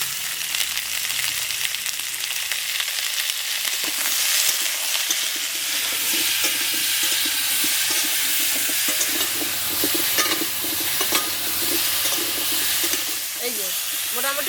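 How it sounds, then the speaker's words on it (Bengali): Vegetables fry in a pan with a pinch of salt and turmeric, a steady close sizzling hiss with occasional stirring scrapes running throughout. "টমেটো আর কাঁচা লঙ্কাগুলো বাদে সব কিছুই ভেজে নেবো"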